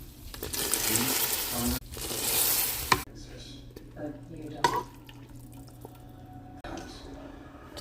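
Fideo pasta shells cook in a pot for chicken and fideo soup, giving a steady broadband bubbling and sizzling hiss with occasional stirring clinks, loudest in the first three seconds and then quieter, with no talk.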